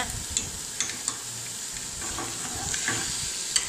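Goat liver pieces fry in a pan while being stirred, with a steady sizzle broken by repeated sharp scrapes and taps of the spoon, close up and without speech.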